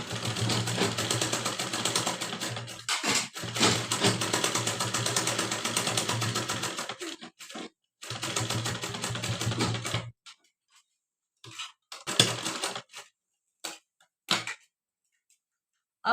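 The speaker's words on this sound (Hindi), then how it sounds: "और यहाँ पे हमें डबल फोल्ड करके सिलाई लगानी है।" A sewing machine runs in long steady bursts as it stitches a double-folded 5-inch fabric strip for a lehenga, the stretches of whirring broken by pauses and short stop-start spurts near the end.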